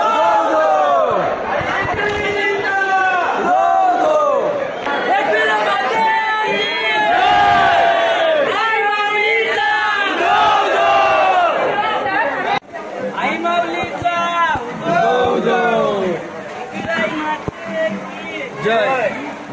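Devotees crowd and queue at Ekvira Aai temple near Lonavala, a dense, loud babble of many voices with chanting and shouts rising throughout, continuous and close.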